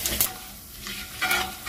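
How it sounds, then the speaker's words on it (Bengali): Dry red chilli, bay leaves and whole cumin hit hot mustard oil in a pan, giving a steady close sizzle with brief stirring scrapes, with no voices. "তেলটা খুব ভালো গরম হয়ে গেছে, দিয়ে দেবো একটা শুকনো লঙ্কা ও দুটো তেজপাতা, দিয়ে দেবো হাফ চামচ পরিমাণ গোটা জিরে।"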